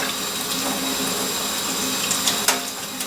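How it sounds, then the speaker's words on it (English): Tap water runs steadily in a kitchen sink over a cracked hard-boiled egg, a close, continuous hiss and splash with a few brief louder splashes near the end. "Run it under water a little bit after you crack it."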